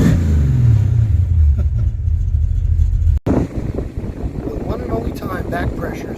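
A Ford Mustang with a swapped, modified exhaust idles with a deep, loud rumble and some wind buffeting on the microphone, then cuts abruptly into a lighter rumble as people talk over it.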